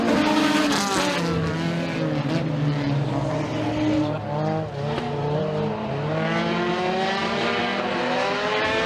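Race cars roar together through a short-track heat race at Raceway 7, engines loud and continuous with rising and falling pitch as cars circle close by, a steady wall of motor noise throughout.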